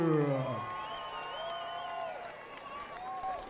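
Crowd cheering for a boxer at a live fight, a brief swell of whoops and applause in a hall, heard alongside a loud announcer's voice.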